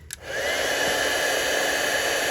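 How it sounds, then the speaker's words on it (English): An embossing heat gun blows steadily up close to heat-set embossing powder on a handmade card, starting with a click and rising into a constant, even whoosh and whine. "I'm using my embossing gun, and I'm going to emboss."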